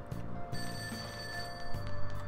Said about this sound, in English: That ringing sound isn't coming from my phone. I hear it coming from downstairs.